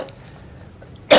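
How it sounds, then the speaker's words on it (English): A single sharp cough bursts out at the end after near silence, loud and close. "those acid mites in my throat are making me cough"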